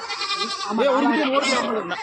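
Goats bleat repeatedly at a busy Tuesday poultry and goat market in Tenkasi, with wavering, close calls rising over steady crowd chatter and nearby voices.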